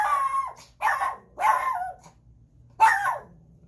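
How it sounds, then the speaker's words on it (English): A dog barks four times in short, sharp bursts, the first three close together and the last after a pause, near and loud. "Excuse my dog. She thinks she has to bark at the car and motorcycle"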